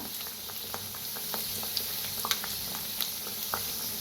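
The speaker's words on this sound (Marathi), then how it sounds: "तर आता दोन दोन सोडून आपण तळून घेऊया" Kachori deep-frying two at a time in moderately hot oil on a low flame: a continuous close bubbling fry, dotted with small crisp pops and crackles.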